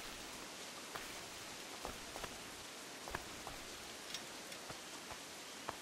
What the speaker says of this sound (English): I shot so hard I made it rain